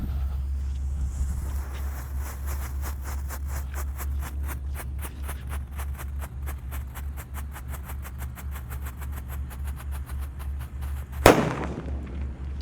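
A long rapid string of pops from a red disco happy flower firecracker crackles steadily for several seconds over a low rumble, ending in one sharper, louder bang.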